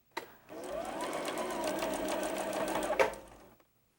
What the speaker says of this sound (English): sew them at 1/4 inch